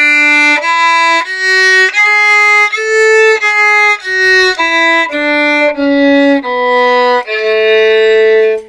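A major scale played note by note on a string instrument for flamenco music, about a dozen clear, evenly paced pitched tones stepping through the scale, loud and close with no talking.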